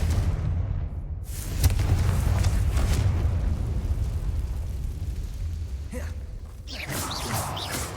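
A Confringo fire spell in Hogwarts Legacy explodes with a deep, rumbling boom that rolls on as a heavy low roar for several seconds, followed by fainter crackling bursts near the end.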